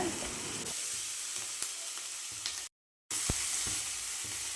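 Tomatoes and curry leaves sauté in a hot pan for mushroom chukka, giving a steady close sizzle with light stirring scrapes and a brief break of silence partway through.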